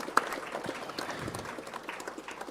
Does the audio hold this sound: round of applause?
yes